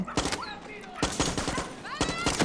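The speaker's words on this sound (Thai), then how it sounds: "มึงยิงใครวะ มึงยิงหมากู" Gunfire from the video game Far Cry 6 crackles in three quick rapid-fire bursts, loud and close, while voices talk over the shooting.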